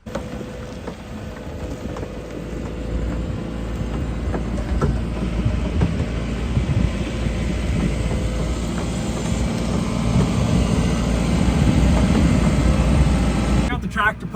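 A tractor pushes a truck loaded with giant wooden spools, giving a heavy, continuous engine drone with low rumble that builds gradually in loudness, close and steady throughout.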